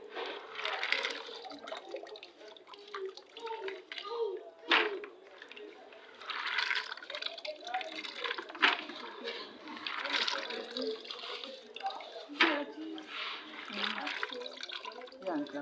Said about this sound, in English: So this soya bean. I'm washing it already.